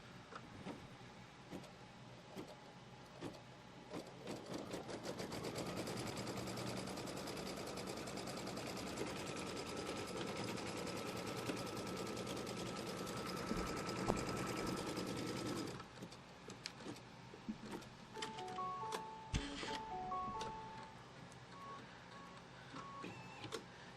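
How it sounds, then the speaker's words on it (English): An embroidery sewing machine stitches a line across quilt fabric, a steady rapid mechanical whirr that runs for about ten seconds and then stops, followed by faint clicks and beeps. "So now let's stitch down this fabric. It's going to do a line from here to here."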